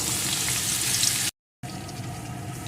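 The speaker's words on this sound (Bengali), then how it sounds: "এখন এই তেলের ভিতরে দিয়ে দেবো দুই তিনটে থেতো করা রসুন" Two or three crushed garlic cloves fry in hot oil for an egg korma, giving a steady, close hissing sizzle that cuts out briefly and then returns slightly softer.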